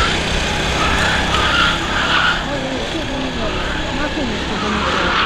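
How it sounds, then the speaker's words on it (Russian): A race car weaving and skidding on track to warm its tyres during a formation lap, with a steady engine roar and tyre noise throughout, while people talk over it. "он виляет, чтобы разогреть покрышки"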